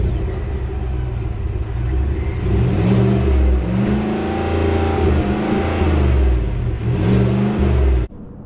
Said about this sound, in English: since we're down here admiring the quad dual tip exhaust,